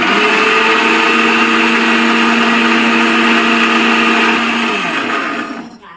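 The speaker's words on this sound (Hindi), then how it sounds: "सबसे पहले टमाटर पीस लेते हैं।" A mixer grinder grinds tomatoes, whirring in a loud, steady mechanical drone that runs close and alone for several seconds before the motor winds down and cuts off near the end.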